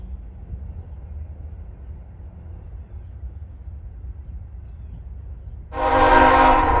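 A freight train, M367, rolls west past a railfan spot at Deshler, Ohio, in winter, its low rumble steady throughout before a loud horn blast sounds near the end.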